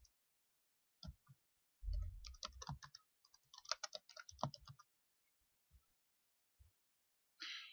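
Typing a page title on a computer keyboard: scattered bursts of quiet, close key clicks with gaps of silence between them.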